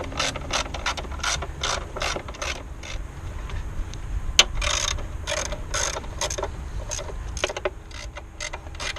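A ratchet with a 5/16 socket turning bolts on a Nissan Xterra engine, close rapid clicking strokes repeated steadily throughout with a brief metallic clink midway, no talk.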